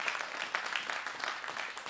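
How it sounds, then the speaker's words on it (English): Congregation clapping in praise during a Sunday church service, a steady, dense wash of hand claps filling the space without speech. "Let's give the Lord a big hand clap of praise here."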